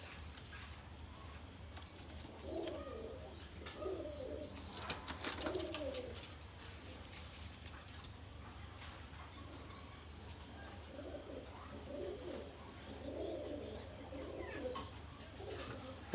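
Skittish pigeons, including a golden Sialkoti baby, coo faintly in short repeated bursts, with a steady insect-like hiss and background hum throughout.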